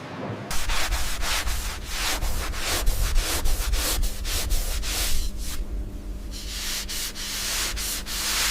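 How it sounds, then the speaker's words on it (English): Steady rhythmic rubbing strokes of polishing a giant wooden matchstick, a rapid series of close, loud swishing passes that continue without pause and with no voices. "Polishing ensures a flawless finish."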